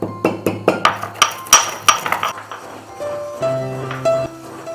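Green cardamom pods with salt being crushed in a mortar and pestle for a yogurt chicken dish, a run of sharp rhythmic pounding knocks and clinks close by, then softer scraping and grinding with a faint tonal hum.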